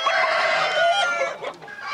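A rooster at a cock-crowing competition gives one full crow, close and clear, fading at the end.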